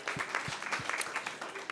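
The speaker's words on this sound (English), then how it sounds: "let's clap it up for TireRack.com" Patrons at a live podcast show in a bar clap together, a quiet, brief patter of applause with a few distinct sharp claps standing out against the room.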